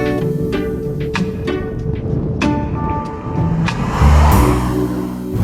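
A Peugeot 5008 1.6 THP turbo petrol engine pulls under acceleration with a steady, loud rising drone and a swell of power near the end, heard close up and alone.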